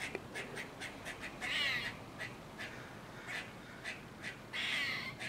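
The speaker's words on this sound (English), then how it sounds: "Now I hear the jays going." Jays calling outdoors, a series of harsh, raspy squawks repeating in an irregular rhythm, some short and some drawn out, moderately distant over quiet background noise.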